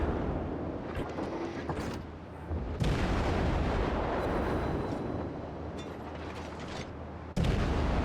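Warship guns firing during a World of Warships battle, with heavy booming salvos over a dense rumbling bed of battle noise, including sharp loud onsets near the middle and end.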